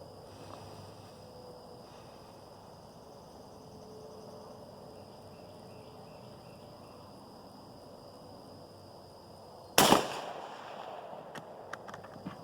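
A single loud, sharp rifle shot from a 6mm Remington loaded with 75-grain Hornady V-Max bullets cracks out at a range after a stretch of quiet outdoor ambience, then fades with a brief echo.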